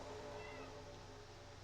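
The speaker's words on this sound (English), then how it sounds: "If you hear my cat in the background, it's locked out of my room and it doesn't like that." A cat locked out of a room meows from behind a closed door, a muffled drawn-out cry faint in the background under a steady hum of racing game sound.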